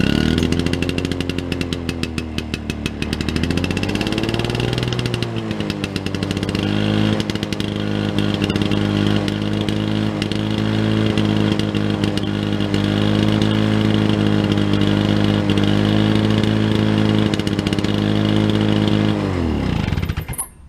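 A two-stroke Lawn-Boy mower engine, a modified 10201, revs up on choke and then runs loud and continuous close by, with its pitch wavering before settling into a steady buzzing drone and cutting off at the end.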